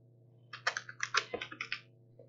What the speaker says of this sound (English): So you can type in firewall,